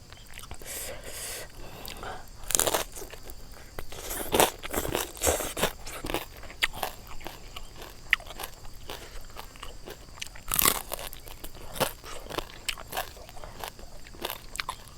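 Crispy fried pork belly bitten and chewed up close, loud sharp crunches at irregular intervals with crackly chewing between and faint breathy sounds.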